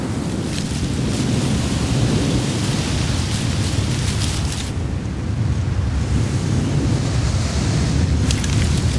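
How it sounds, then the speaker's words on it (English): A severe storm beats down on an ancient oak, with heavy rain and high winds producing a loud, dense, unbroken roar of wind and pouring rain that holds steady throughout. "bringing with it heavy rain and high winds"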